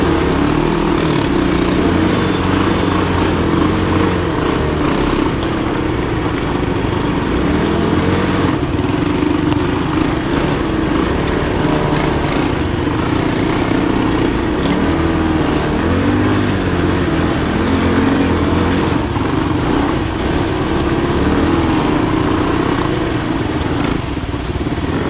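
Engines of a Honda ATC200S three-wheeler and a Tao Motors Mudhawk 200 ATV drone loudly and steadily on a test ride, a close continuous motor roar with no pauses.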